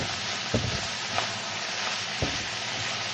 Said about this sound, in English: We're going to let this kind of simmer.